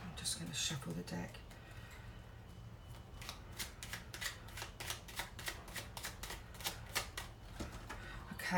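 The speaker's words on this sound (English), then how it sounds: "I'm just going to shuffle the deck." A deck of tarot cards is shuffled close by, a rapid run of crisp riffling flicks and taps that repeat steadily and quietly, with faint voice-like sounds at the start.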